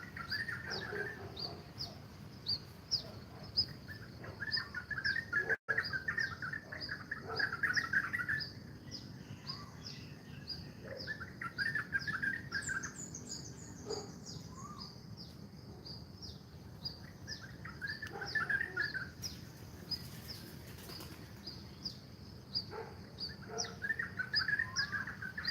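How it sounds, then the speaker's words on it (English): Birds chirp and sing outdoors in Phala, Thailand, with repeated clear tweets and short song phrases coming in bursts over a quiet rural background, moderately close, with no speech. "The birds are so pretty."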